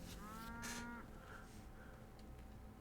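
A cow moos in the video game Pathologic 3: one close, drawn-out low moo with a rising, wavering tone early on, then quieter trailing murmurs over a steady background hum.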